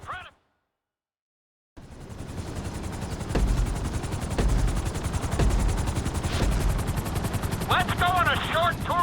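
A helicopter in GTA 5's flight school roars with a steady engine and rotor drone after a brief silence, with gunfire-like bursts and a voice heard over the mix.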